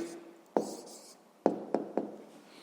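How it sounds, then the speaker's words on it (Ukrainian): Pen strokes writing down the answer to a sixth-grade maths exercise on paper, a few sharp taps and short scratches in quick succession, close and fairly quiet. "Записуємо відповідь."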